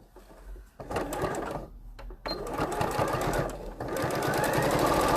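A sewing machine runs a quarter-inch seam through fabric for a French seam, whirring in rapid mechanical bursts that rise and stop, close and loud, with brief pauses between runs.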